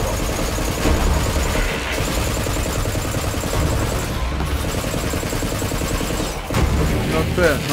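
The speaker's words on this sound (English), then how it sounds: "Yeah, I'm gonna use this pistol." Rapid gunfire from a pistol in Borderlands 3 rattles on continuously amid loud explosions and dense combat noise, with a voice faintly mixed underneath.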